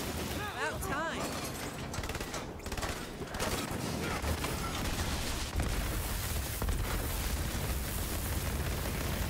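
Spade shotgun fire from Borderlands 3, a dense barrage of blasts and booming impacts filling the whole stretch at steady loudness, with a voice speaking over the chaos.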